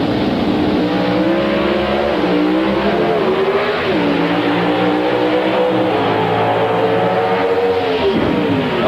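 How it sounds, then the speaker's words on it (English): Pro Stock drag racing cars with 500 cubic inch racing-gasoline engines fed by twin four-barrel carburetors, at an NHRA event: a loud, sustained engine roar whose pitch rises and drops through gear changes, close and continuous. "500 cubic inch engines under the hood"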